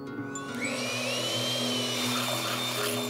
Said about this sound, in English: Whisk 2 egg whites in a bowl until stiff.